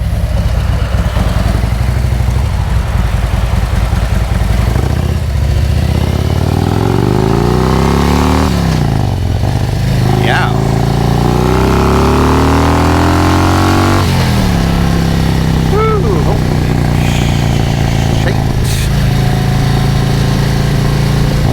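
Motorcycle fitted with an S&S 465 cam revving loudly and continuously, the engine pitch sweeping up and down through repeated throttle blips with no talking.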